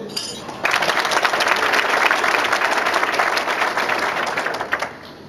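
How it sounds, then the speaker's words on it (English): Luncheon audience breaks into a big round of applause for Rough Rider fans, dense clapping that starts abruptly, holds strong for several seconds and then tapers off. "a big round of applause for from the Rough Rider fans in the audience"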